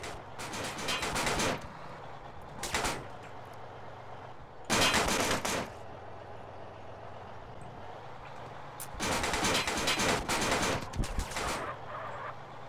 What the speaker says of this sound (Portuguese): eles vão ficar dando tiro até explodir o tanque